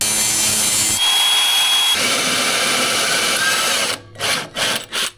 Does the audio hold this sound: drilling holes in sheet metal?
yes